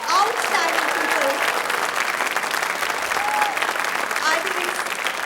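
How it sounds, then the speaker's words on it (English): An audience at a dance recital applauds steadily and fairly loudly for about five seconds, a dense wash of clapping with faint crowd murmur and a few cheers. "Let's make huge round of applause for these 3 outstanding people."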